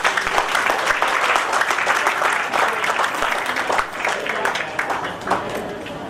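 A wedding ceremony crowd breaks into sustained, dense clapping that carries on for several seconds, fading slightly toward the end, with voices mixed in underneath.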